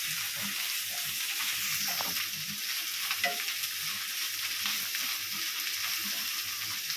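A masala of ginger paste, turmeric and chili powder is stirred in a frying pan, giving a faint, steady sizzle with soft scraping strokes.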